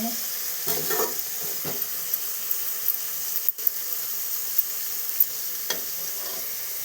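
Food cooks and sizzles in a pan with a steady hissing fry, punctuated by a few faint stirring scrapes and clinks, fairly loud and continuous.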